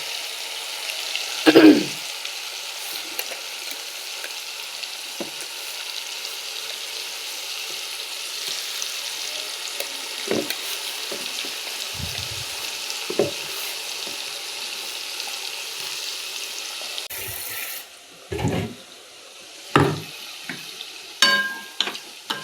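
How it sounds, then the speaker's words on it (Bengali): Spice masala for desi chicken sizzles steadily in a hot pan while being sautéed, with a constant frying hiss, occasional scraping stirs, and louder clattering and splashes near the end. "এবার এই মশলাটা দিয়ে দেবো মশলাটা ভালো করে কষিয়ে মশলাটা দিয়ে দিলাম"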